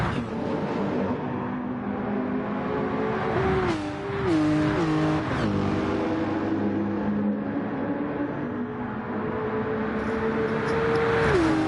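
A race car at Monza in a Gran Turismo-style endurance racing game screams close by, its engine pitch climbing and stepping down through quick gear changes, with brief tire squeal and a steady loud roar throughout.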